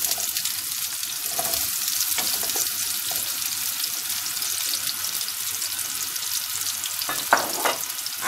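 Onions fry in a pot with a steady, dense sizzle, loud and continuous, with a few stirring clinks toward the end and no talking.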